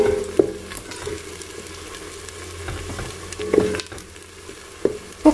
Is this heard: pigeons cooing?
no